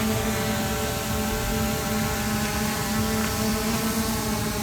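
An SJRC F11 Pro drone flies with a steady, continuous motor whine and propeller buzz that holds level throughout, loud and close, with no talking.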